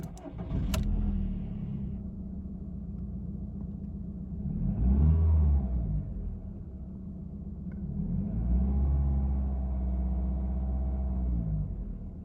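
A VW Mk4 Golf with a holed exhaust idles loudly with a deep, steady rumble, swelling twice as the engine is blipped, close by with no talking.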